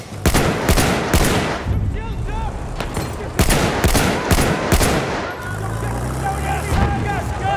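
Enemy machine gun fire in Battlefield 1 online on Xbox: loud, rapid clusters of gunshots in repeated bursts, with distant battle noise, vehicle rumble and game voices in between.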